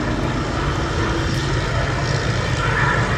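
A Grumman Bearcat piston-engined fighter performs at a Duxford air show, its propeller engine producing a steady, loud, broadband drone that holds unbroken for the whole moment with no talk over it.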